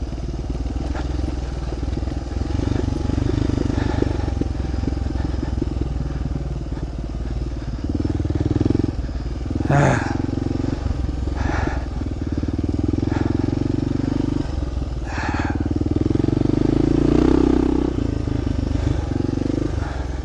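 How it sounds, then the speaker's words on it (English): A heavy motorcycle struggles through loose sand on a steep dirt road. Its engine drones steadily and nearby, with occasional clattering bursts as the revs rise and fall. "This bike is a porker. I can't control the front wheel in the loose sand."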